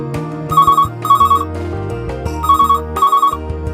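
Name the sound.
telephone ringing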